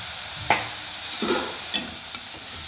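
Spoon stirring and mixing leafy vegetables (mustard greens and dill) with spices in a pan, a few distinct scraping clinks and soft shuffles spaced irregularly, close and clear without talk.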